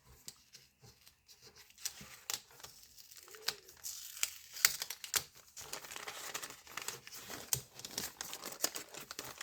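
Paper packet of a scrapbooking advent calendar being opened, with crinkling and tearing paper rustles that come in irregular bursts, fairly close and moderately loud throughout, with no talking.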